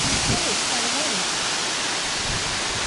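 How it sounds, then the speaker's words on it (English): A waterfall in the Blue Mountains of Australia, swollen after a full day of rain, roars as a constant dense rush of water that fills the whole clip, with a voice speaking briefly over it. "all the waterfalls going"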